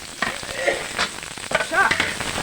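Ginger and onion frying in oil for Filipino escabeche tilapia: a steady crackling sizzle with a few brief clinks and scrapes of stirring, fairly close and with no talking.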